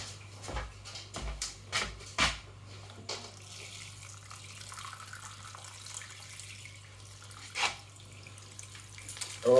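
Water poured onto cactus potting soil, several short splashing bursts and trickles separated by quiet gaps over a low steady hum.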